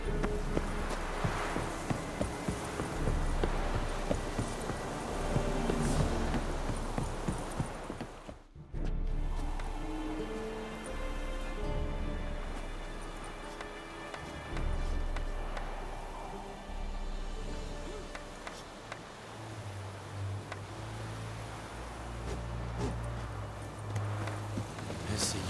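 Horse hooves clip-clop in The Witcher 3, a steady walking rhythm under game music and ambient sound, broken by a brief drop-out partway through.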